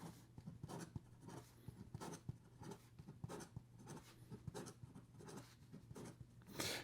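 An OMAS Ogiva fountain pen with a 14 karat gold nib scratches rapidly across paper, giving a quick, close run of short strokes with brief pauses in between and no voices.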